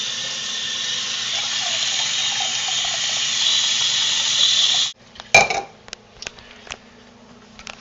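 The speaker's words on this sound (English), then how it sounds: "10 cups of hot water in our bucket." Hot water pours steadily into a large bucket for homemade liquid laundry soap, a continuous rushing splash lasting about five seconds before stopping abruptly, followed by a few sharp clinks and knocks nearby.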